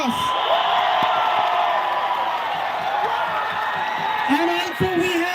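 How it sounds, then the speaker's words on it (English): A crowd at an outdoor tribal solidarity protest in New Delhi cheers and whoops loudly and steadily, with scattered yells rising near the end. "Everybody, round of applause."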